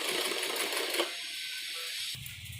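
A sewing machine stitches piping along the neckline of a child's dress, running in a quiet continuous whir for about a second, then pausing, with faint fabric handling and a soft knock near the end.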